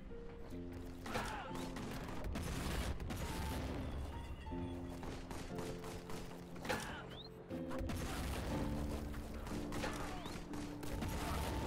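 Gunfire and explosive impacts from the Warhammer 40k Boltgun shooter game, a dense continuous barrage of shots and crashes layered over steady music throughout, with brief pauses near the middle.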